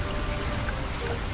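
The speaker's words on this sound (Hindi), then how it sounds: "हमारे गांव में इतनी बड़ी बारिश क्यों हो रही है?" Heavy rain pours down on a village as a dense, steady hiss of falling water, loud and unbroken, with no voices.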